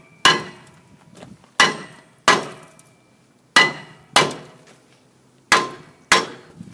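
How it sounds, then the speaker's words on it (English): A hammer bangs on a stuck rear brake rotor of a 1997 Mitsubishi Montero/Pajero, giving seven sharp, loud metallic strikes at irregular intervals, each ringing briefly, with faint clinks between. "use your hammer and really bang around the rotor to loosen it up"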